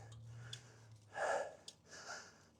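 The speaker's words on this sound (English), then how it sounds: "I'm probably breathing like a herd of elephants" Heavy breathing of a cyclist climbing a long hill on a Florida trail, close to the mic, with a few sharp gasping inhales and a longer loud exhale over faint wind.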